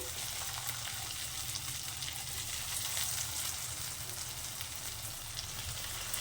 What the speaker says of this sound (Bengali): তেলের মধ্যে আমি কিন্তু এখন ফিশগুলো দিয়ে দিচ্ছি